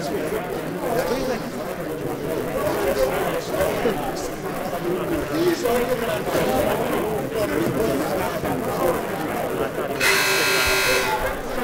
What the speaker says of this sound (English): Last second buzzer